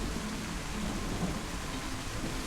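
Heavy rain falls steadily in the game DayZ, a dense, even hiss with a low rumble beneath it and no voices.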